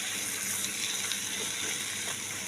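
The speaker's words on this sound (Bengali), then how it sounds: "অল্প করে জল দিয়ে দিলাম।" A small amount of water poured into a pan of cucumber curry, a steady soft gushing splash running continuously at close range with no talk.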